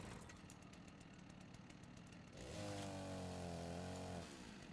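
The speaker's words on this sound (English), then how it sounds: "Sounds a lot more like a real chainsaw" Chainsaw in the game Rust starts from a rough, putt-putting idle and then revs up to a loud, steady buzzing whine for about two seconds before it eases back. No voices are heard.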